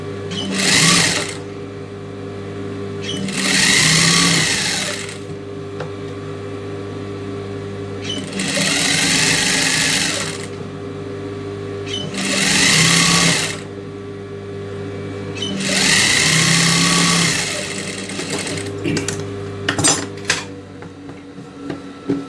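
A sewing machine stitches a strip onto a blouse neck in four separate runs of steady, close, rapid whirring, each lasting a few seconds and separated by short pauses with faint handling noises.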